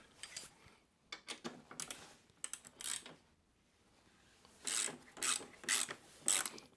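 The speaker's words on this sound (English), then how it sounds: "Next step, I need to remove these bolts." Ratchet clicking in quick bursts while removing 14 mm bolts on a Kawasaki Versys 1000 SE motorcycle, faint and close, with quiet pauses between the runs of clicks.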